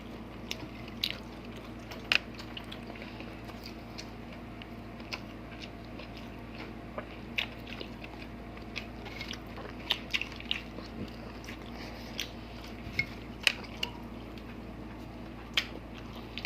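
Someone eats grilled pork liempo and squid at close range, with soft wet chewing and scattered small crunches and bites over quiet background, steady and faint with no talk.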